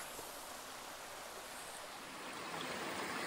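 Steady rushing flow of a stream on the Pacific Crest Trail in California, a constant broadband wash of water that is close and even throughout, with no voices.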